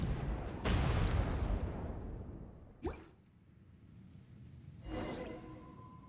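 Explosions in Genshin Impact: a broad, rumbling blast lasting over a second, a sharp whooshing effect, then another softer burst after a quiet gap.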